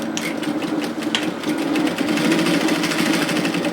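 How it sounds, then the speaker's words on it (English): Sewing machine stitching the seams of a knit teddy jacket, a close, rapid, even mechanical whirring hum that runs continuously, with no talking. "What we're going to do is start here and start sewing."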